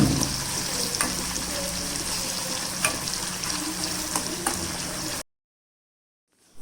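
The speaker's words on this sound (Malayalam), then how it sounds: "ചൂടായ എണ്ണയിൽ നമ്മൾ തയ്യാറാക്കിയ നെത്തോലി ഇട്ട് കൊടുക്കുക." Anchovies fry in hot coconut oil in a pan, giving a steady, close crackling sizzle with small pops for about five seconds before cutting off to silence.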